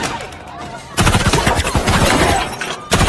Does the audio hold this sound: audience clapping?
no